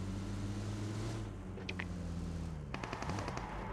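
Distant gunfire from players fighting in PUBG Mobile, a quick burst of sharp shots followed by a faster rattling string of rounds over a low engine-like rumble.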